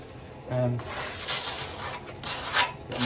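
Rough abrasive rubbing of a sticky-backed sanding disc against a surface, several uneven strokes in bursts, close and moderately loud, with a brief tonal voice-like sound early on.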